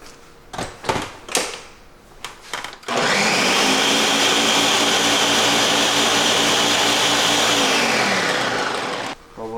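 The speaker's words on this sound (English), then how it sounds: "Let me give that a blend." A blender whirs through spiced vinegar with salt, a loud continuous high-pitched roar lasting several seconds after a few short clunks and handling noises, then cutting off.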